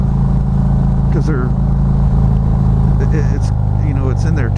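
A Harley-Davidson Street Glide touring motorcycle engine runs at a steady, low, torquey drone while riding, heard continuously beneath someone talking.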